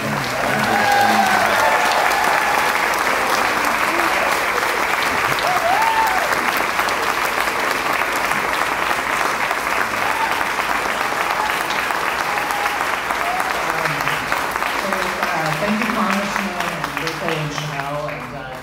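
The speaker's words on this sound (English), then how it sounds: "Big round of applause for the founder" Crowd at a political resistance fair giving a big, sustained round of applause for a group's founder, loud dense clapping with some cheering that runs nearly twenty seconds before thinning, voices mixed in.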